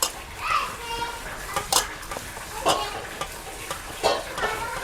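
Pieces of radish for a traditional pickle being stirred and tossed with oil and spice mix, giving wet, sticky stirring and scraping bursts at irregular intervals, while someone talks and children can be heard in the background.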